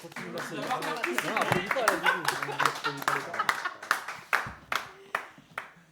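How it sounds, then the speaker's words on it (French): Studio audience clapping during a French TV game show contest between real estate agencies, a dense patter of hands with voices mixed in, thinning toward the end into a few louder isolated claps. "On applaudit quand même David et Raphaël."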